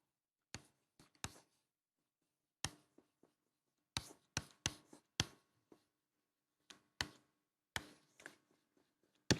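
A pen writing an answer by hand on paper, heard as short, close, crisp scratching strokes in irregular bursts with quiet gaps between them.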